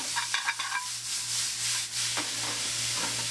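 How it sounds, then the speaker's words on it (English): Peppers, garlic and onions being tossed and stirred in a hot pan, with a soft steady sizzle and scraping stir sounds, a few light clinks early on, and no talking. "tossing the peppers in there, the garlic, the onions."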